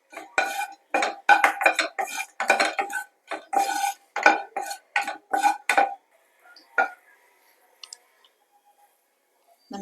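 Whole spices (cinnamon, cardamom, cloves and bay leaf) are stirred in a pan for curry, giving close, bursty clatters and scrapes of the spoon against the metal, then a few scattered quiet clicks as the stirring stops.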